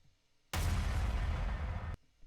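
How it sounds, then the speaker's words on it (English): A sudden loud explosion bursts in and roars with heavy low rumble for about a second and a half before stopping sharply. "I've got some explosions,"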